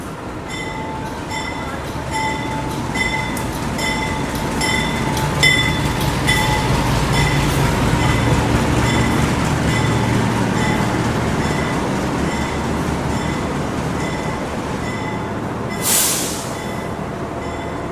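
A train hauled by a CC206 locomotive runs steadily along the rails in Indonesia, a continuous loud rumble with faint rhythmic wheel clatter, a sustained high tone and a brief hiss near the end.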